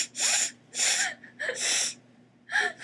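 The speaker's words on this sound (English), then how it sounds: "She's very upset by me sniffing." Four sharp, breathy sniffs spaced about a second apart, close to the listener, with brief quiet between them.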